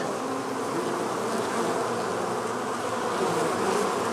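Honeybees crowd around their queen inside the hive, giving a dense, continuous buzzing drone that stays steady and close throughout, with no voices.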